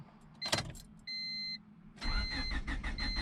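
Honda Civic parked for over a month: a click and a short electronic chime, then the engine cranks and catches, running with a raspy exhaust note at close range.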